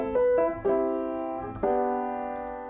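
Piano riff from the introduction of a 1986 song, a few quick struck chords followed by two longer ringing ones, close and clear with no talking.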